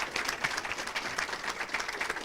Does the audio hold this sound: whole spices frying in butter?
no